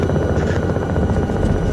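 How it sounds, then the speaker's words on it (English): A helicopter in a flight-simulator game set on Alpine mountain rescue missions drones with a steady rotor and engine roar, loud and continuous for the whole short stretch, with no talk over it. "Let's get control of this helicopter."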